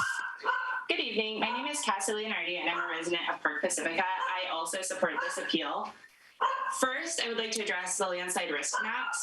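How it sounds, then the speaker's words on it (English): A dog barks and yips in the background, fairly clear behind someone speaking at a virtual city council meeting, who keeps talking throughout. "Sorry for my dog in the background."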